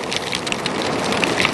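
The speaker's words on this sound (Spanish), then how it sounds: "Llevo un buen ratito aquí cayendo agua." Steady rain hissing and pattering close by, turning to hail, a dense continuous wash of drops with no voices, near Etosha National Park, Namibia.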